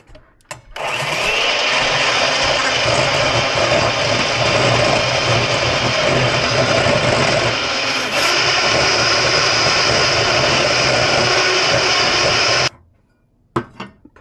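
Electric mixer whips three egg yolks for a Premier Protein vanilla eggnog, a loud, steady motor whine running continuously for about twelve seconds before cutting off.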